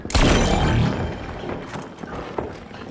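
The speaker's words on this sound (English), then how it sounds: "Goo grenade out!" A goo grenade thrown in the video game The Finals lands with a loud splattering burst right at the start, then fades over a couple of seconds into softer clatter.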